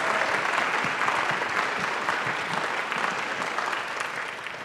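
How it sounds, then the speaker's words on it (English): Audience at a Buddhism conference applauds steadily throughout, a dense, even wash of many hands clapping that holds its level with no talk over it. "Could we give them a resounding round of applause for their efforts?"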